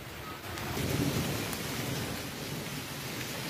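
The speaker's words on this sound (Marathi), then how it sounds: "दुपारी 2 वाजल्यापासून लातूर शहर आणि परिसरात ढगफुटीसारखा पाऊस पडतोय" Heavy cloudburst-like rain pouring over Latur city in the afternoon, a dense, loud, unbroken roar of falling water with a low rumble underneath.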